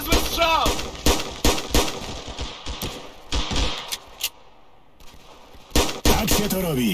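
Rapid bursts of Ravenfield video game gunfire, sharp repeated shots with brief pauses, loud and close.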